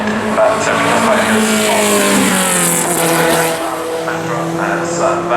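A Lotus 18 Formula One race car runs the Goodwood hill with bodywork partly missing, its engine a loud, close, sustained rising and falling drone as it passes under the noise of the crowd.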